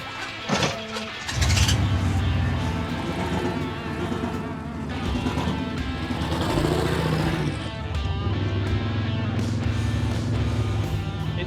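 A turbocharged Trans Am with transmission trouble cranks and fires up, its engine rumbling loudly and revving as the car pulls away, steady throughout.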